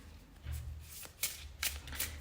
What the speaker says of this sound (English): your tarot deck is now shuffled with the intention of this third reading